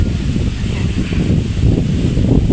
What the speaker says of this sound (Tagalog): Ang hangin dito, doon hindi.